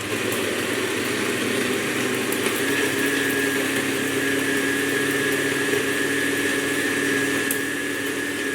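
An electric grinder churning masala paste for gujje sambar runs in a constant loud mechanical whine and hum, close and unbroken, with no voices over it.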